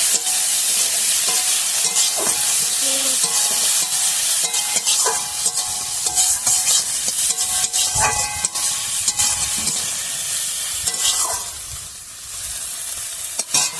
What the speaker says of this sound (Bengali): লবণ, হলুদ গুঁড়ো দিয়ে চিংড়ি মাছটা ভালো করে ভেজে নেবো।